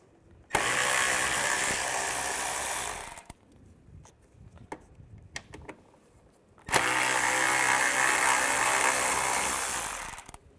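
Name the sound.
socket wrench with T20 socket removing screws on a Mini Cooper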